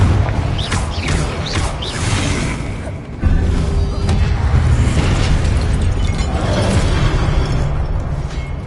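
Confringo blasting spells go off in a video game, striking statues with a sustained loud roar of explosions and booming impacts, close and heavy throughout.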